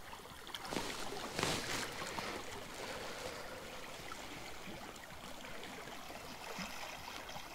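Fast-flowing river on the Salaca running through a snowy ravine, a faint, steady wash of moving water with a brief louder splash early on, heard from a short distance.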